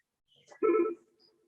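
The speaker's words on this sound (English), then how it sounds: "now you can hear that phone ringing in here" An office desk phone, just dialed on extension 8315, gives a single short electronic ring burst, moderately loud and close, followed by a faint trailing tone.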